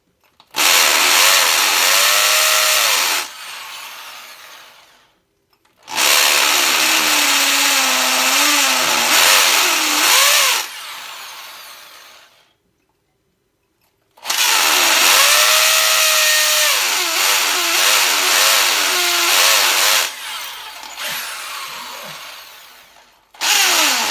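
Hammer drill boring into a concrete basement wall for studs, loud and close, in three long bursts of grinding, rattling drilling separated by short pauses.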